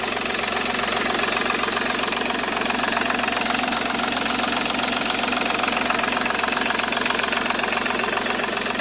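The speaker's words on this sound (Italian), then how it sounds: "Seat Ibiza 1400 turbo diesel, 3 cilindri." A Seat Ibiza 1.4 TDI three-cylinder turbo diesel with 205,000 km idles with a steady, loud, close clatter of rapid knocking, unbroken throughout with no voices.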